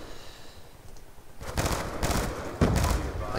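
SWAT-556 rifle firing in Call of Duty Black Ops 2, a few quick bursts of gunfire at close range, loud and sharp against quiet game background.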